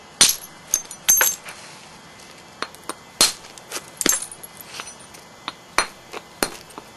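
Stone flintknapping strikes knock flakes off the edge, producing sharp, bright clinking taps at irregular intervals, some close and loud, others lighter, with quiet pauses between.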